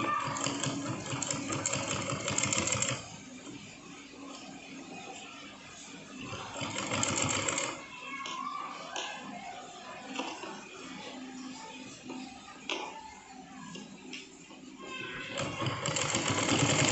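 A sewing machine runs in bursts while back-stitching a small doll dress, a steady mechanical whir that starts and stops several times at close range, with quieter pauses between runs.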